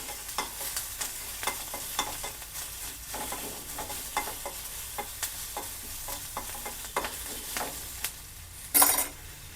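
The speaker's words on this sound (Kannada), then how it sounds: "ಹಾಗೆ ಬೆಳ್ಳುಳ್ಳಿನೂ ಹಾಕೋತಾ ಇದ್ದೀನಿ ಸ್ವಲ್ಪ ಬೆಳ್ಳುಳ್ಳಿನೂ ಹಾಗೆ ಫ್ರೈ ಮಾಡ್ಕೋಬೇಕು" Onion and garlic fry in hot oil for a traditional Karnataka okra curry, a steady sizzle broken by regular scraping stirs and a brief louder clatter near the end, with no voices.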